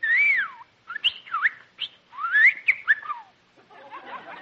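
A bird whistles in sliding, warbling phrases, several short bursts with pauses, close and clear, ending in fainter chirps.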